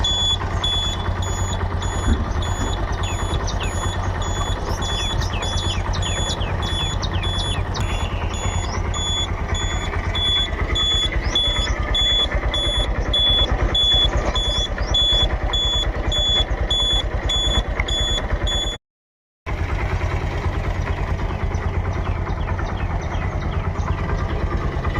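A second-hand Honda CD 110 motorcycle in good condition idles steadily up close, a loud continuous low engine chug with a faint high beeping tone above it and a brief cut near the end, no talking.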